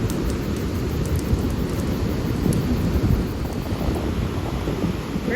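An approaching storm brings a dense, steady roar of wind and rain across an open outdoor spot, with low rumbling that could be distant thunder and no voices.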